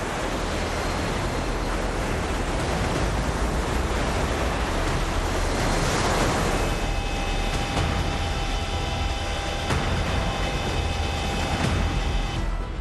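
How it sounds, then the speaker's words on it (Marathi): Surf of three- to four-metre waves strikes the Russian coastline, a loud, continuous roar of crashing water and wind noise with no pauses. "रशियाच्या किनाऱ्यावर सध्या 3 ते 4 मीटर उंचीच्या लाटा धडकतायत."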